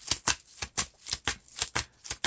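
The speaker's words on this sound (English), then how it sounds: "Shuffle our deck" A deck of playing cards shuffled during a card game, a run of quick crisp riffling bursts in a steady rhythm, close and fairly quiet with no talk.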